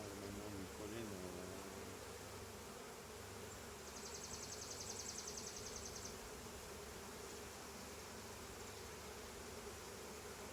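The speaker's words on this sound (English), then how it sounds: "Boy, these bees are going crazy." Honeybees swarm around an opened hive during a split check, a dense, even buzz that holds steady throughout, with a faint voice murmuring near the start.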